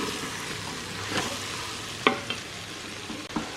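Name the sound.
stirring ground pepper into veg biryani in Instant Pot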